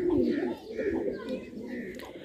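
Pigeons coo in low, rolling murmurs from a fancier's loft of show birds, a continuous soft burble close by, with faint higher chirps above.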